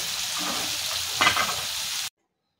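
A masala omelette sizzles steadily in a spicy gravy in a pan, with a brief stirring scrape midway before the sound cuts off abruptly.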